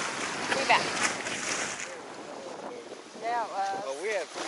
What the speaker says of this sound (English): It's still windy, even though it stopped raining.